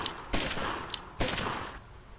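Gunfire in the Omerta video game: two loud bursts of shots, one at the start and another a second later, each trailing off, with a sharp single crack between them and no talking.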